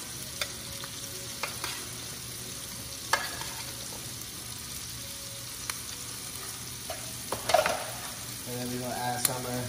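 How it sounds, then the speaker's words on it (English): Andouille sausage fries in oil in a pan for shrimp and grits, with a steady bright sizzle, occasional sharp clicks of stirring, and a louder crackle near the end. "A little bit more oil here. We're going to add the andouille"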